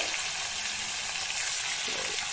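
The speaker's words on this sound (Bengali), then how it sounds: "এখন জাস্ট মাছটা তেলে দেওয়া হচ্ছে হালকা করে" Small fingerling fish fry in hot oil at an outdoor fishing spot, a steady, close, continuous sizzle with no talking.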